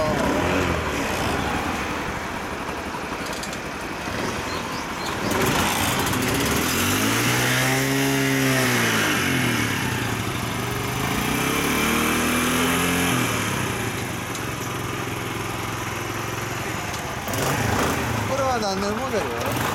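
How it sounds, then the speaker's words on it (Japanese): A small Honda motorbike engine idles and revs nearby, its pitch rising and falling as the throttle opens and closes. The buzz is steady and fairly loud throughout. "エンジン聞かせて。"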